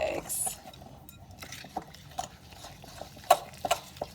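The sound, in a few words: mixing brown sugar and eggs with a fork in a bowl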